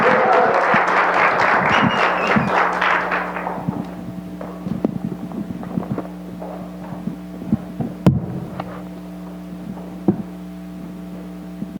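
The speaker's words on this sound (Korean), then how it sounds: "우리 힘찬 함성과 박수로 맞이하겠습니다." Congregation in a church in Cheorwon erupts in loud cheering and applause, a dense roar of clapping and voices over a steady hum that fades after about four seconds, leaving sparse claps and occasional thumps.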